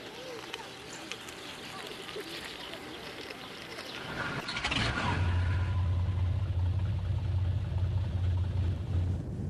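Two CANT Z-506 seaplanes set off from a seaplane base in Pollensa, a low engine rumble building and swelling into a steady loud drone after a few seconds, with bird calls audible at first.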